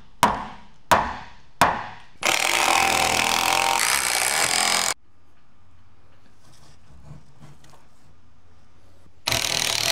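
A power saw cutting framing lumber for a bathroom and utility room: three sharp knocks, then a loud steady whine as the blade cuts for a few seconds before stopping abruptly, a quiet lull, then the saw starting again.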